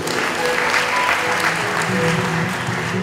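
A church congregation at a Sunday service breaks into loud, continuous clapping and cheering, a dense wash of applause filling the room without a break.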